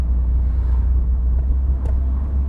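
Steady low engine drone and road rumble inside a Volvo 480 on the move, a constant close hum with faint wind noise and no voices.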